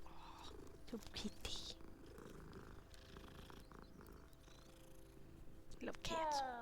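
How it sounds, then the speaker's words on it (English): A cat purrs softly and continuously in the wizarding game Hogwarts Legacy. The steady, close rumble is joined by light game sounds and brief background talk. "Cat."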